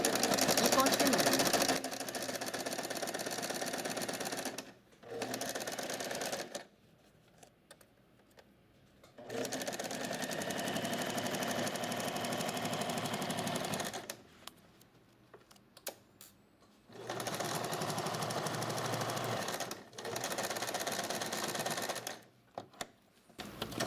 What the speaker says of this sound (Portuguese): seguindo esse pezinho, eu vou começar a costurar